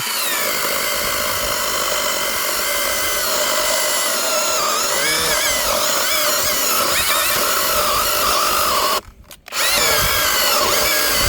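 An electric saw from Dnipro-M whines loudly and continuously as it cuts, its pitch wavering under load, then cuts out briefly near the end before resuming.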